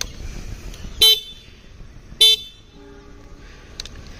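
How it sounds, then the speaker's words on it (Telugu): A Bajaj CT 125 X motorcycle horn sounds twice in short, loud, bright beeps about a second apart, close by, followed by fainter clicks and a quiet hum. "హార్న్ కూడా బాగానే వస్తుంది"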